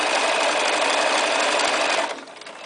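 A Bernina 1230 sewing machine stitches a honeycomb stretch stitch, its steady, close motor whir running continuously before dropping away toward the end as it stops.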